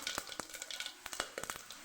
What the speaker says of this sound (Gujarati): તો અહીંયા આપણે એક ચમચી જેટલું જીરું ઉમેરશું એક તજનો ટુકડો એમાંથી બે ટુકડા કરી લીધા છે ત્રણથી ચાર લવિંગ છે બે સૂકા મરચાં